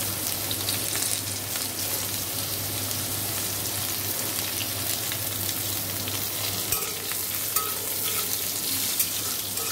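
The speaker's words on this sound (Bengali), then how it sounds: "এবার দেখো আমি আবার সর্ষে শুকনো লঙ্কা ফোড়ন দিচ্ছি" Mustard seeds and dried red chillies temper in hot oil, a steady, close crackling sizzle with faint popping that holds at an even level throughout.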